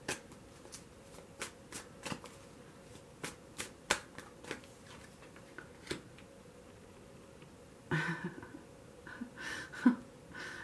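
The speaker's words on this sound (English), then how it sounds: "And I just shuffled." Tarot cards are shuffled by hand, giving a run of quiet, crisp riffles and taps spread over several seconds, with a busier burst of rustling near the end and no talking.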